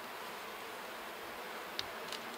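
Honeybees hum at an open hive with drones present, a faint, steady buzzing with a couple of brief sharper buzzes of single bees passing close near the end.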